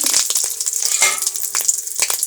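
Fish roe from bata fish, coated in spices, sizzles and crackles loudly in hot oil close up, with irregular spitting pops and bursts throughout.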